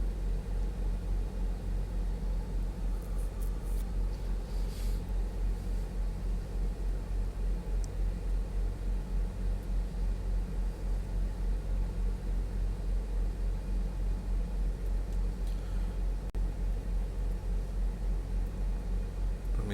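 Spacecraft aerobraking through Eve's atmosphere at 85,000 meters in Kerbal Space Program, a steady, dense rumble of roaring air and low engine-like drone that holds constant and loud throughout with no talk.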